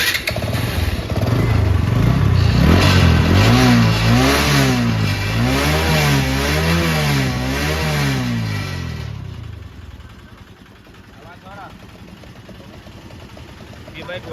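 An Apache RTR motorcycle with an engine rattle fault revs repeatedly, loud rising and falling engine sweeps close by, then drops to a quieter, uneven idle for the last few seconds.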